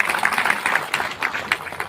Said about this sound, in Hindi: मैं चाहूंगा कि इस बात पे आप लोग तालियां एक बार बजाएंगे